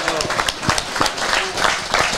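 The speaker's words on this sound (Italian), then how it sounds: "Un applauso a loro." Spectators at an award ceremony for Piedmontese castrated-ox breeders in San Giorgio Scarampi break into brief, dense applause, with a voice speaking over the clapping.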